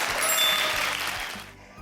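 Families applaud children in an indoor kindergarten church summer Bible school service, a steady burst of hand clapping that fills the room and then tapers off toward the end.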